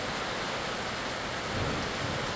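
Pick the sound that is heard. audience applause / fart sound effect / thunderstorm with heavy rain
thunderstorm with heavy rain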